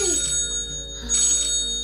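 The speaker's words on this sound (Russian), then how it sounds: "О, ваша классная звонит, Тамара Андреевна" A phone rings with an incoming call, a steady electronic ringtone with bright tones that repeats in two bursts and carries clearly with no talk over it.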